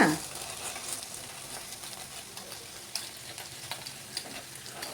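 Potato pieces fry in a pan, a continuous close sizzle with occasional sharp clicks and taps as the pieces are turned over.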